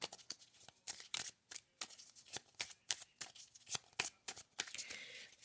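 A mythic tarot deck is shuffled by hand in a quiet room: a quick series of close, crisp riffles and card slaps in an uneven rhythm, with no voices.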